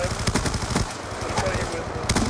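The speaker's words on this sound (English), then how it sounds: "This guy just don't stop shooting!" Rapid automatic gunfire in Call of Duty rattles in close, dense bursts with little pause, mixed with in-game sounds.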